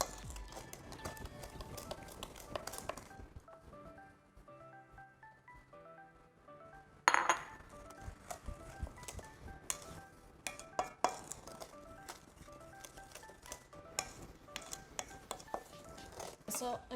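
Flour being stirred into batter in a bowl, with close clinks and taps of a utensil against the bowl under music and occasional talk.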